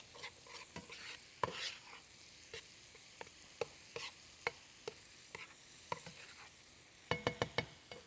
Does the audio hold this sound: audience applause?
no